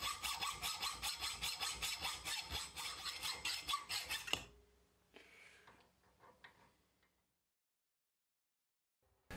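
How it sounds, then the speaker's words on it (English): A hand hacksaw cuts through a brass part on a workbench in steady back-and-forth strokes, loud and rasping for about four seconds before stopping, followed by a few faint clinks and then quiet. "it was onto the bench and out with a hacksaw for a few minutes of aerobic exercise"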